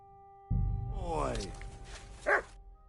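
A dog gives a short bark-like yelp followed by a second brief vocal burst, close and fairly loud over a steady background hum.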